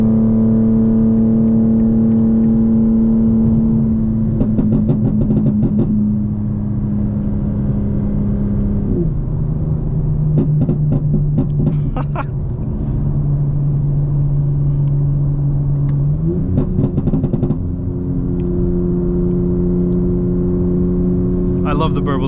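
A Stage 2 tuned 2025 BMW M4 Competition xDrive, about 800 horsepower, holds a steady low exhaust drone with shifting pitch, broken by clusters of crackling burbles and pops, close and loud throughout.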